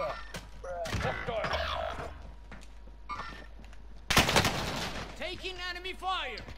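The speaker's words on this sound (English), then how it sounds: "Taking enemy fire!" Gunfire rings out in Call of Duty: Warzone on Rebirth Island. Sharp bursts of shots crack and echo, with a heavy volley near the middle, over game effects and ambient rumble.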